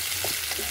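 Vegetables and meat frying together in a pan, a steady close sizzle with soft stirring scrapes over a short stretch.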